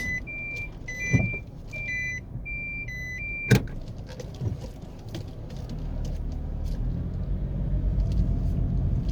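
Car driving along Worthington Avenue in New Kingston, Jamaica, a steady low road rumble that builds toward the end, with a few sharp electronic beeps and a loud thump early on.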